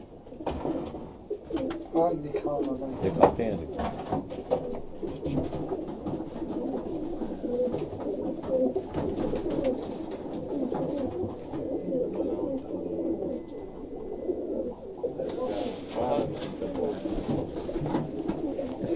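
Sialkot Buttera breed pigeons coo in a steady low murmur beneath someone talking nearby, with occasional rustles and flutters.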